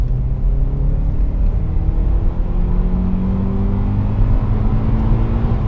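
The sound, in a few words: Honda Accord CL9 engine revving into VTEC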